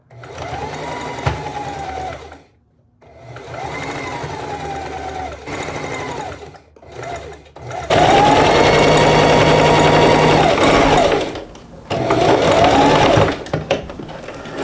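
Sewing machine stitching mirrored dress pieces together in loud bursts of running, with several short pauses between seams and one longer, louder run near the middle.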